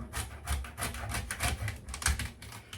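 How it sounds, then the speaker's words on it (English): A knife chops celery for a pot roast in a home kitchen, giving quick, steady, clicky cuts against a board that repeat faintly for a few seconds. "now it's time to cut the celery"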